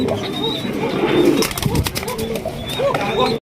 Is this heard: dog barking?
no